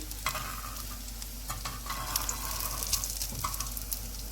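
Potato cutlets (aloo tikki) dipped in egg frying on a tawa, a low continuous sizzle broken by small crackles and occasional scrape taps, close and quiet, with no voices.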